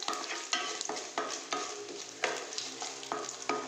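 Tempering spices fry in a pan over a low flame with a soft, steady sizzle, while a spoon scrapes and stirs in a regular rhythm of short strokes.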